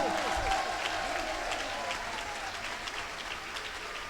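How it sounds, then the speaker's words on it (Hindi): A crowd applauds in joy during a religious discourse, with steady clapping throughout, moderately distant and a little muffled, and a low voice briefly audible at the start. "खुशी में तालियां बजा सको तालियां बजा लो।"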